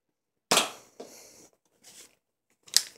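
Toy pistol, not a real gun, snapping off sharp plastic cracks and clicks as it is reloaded and fired, a few separate near hits spaced over a few seconds in a quiet room.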